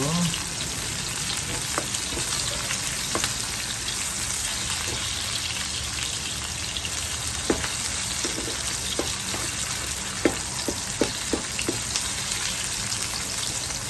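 Shallots fry in a pan with a loud, continuous crackling sizzle, and light stirring taps and clicks come through now and then.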